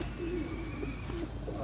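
Pigeons cooing in a pigeon loft, a couple of short low coos close by over a steady background hum.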